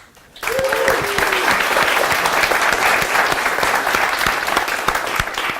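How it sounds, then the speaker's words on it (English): Audience applause at the ThingMonk 2015 tech conference, loud dense clapping from a large crowd that bursts in abruptly and holds steady throughout, with a voice briefly audible at the start. "So massive round of applause to Dave and Nick for making that happen."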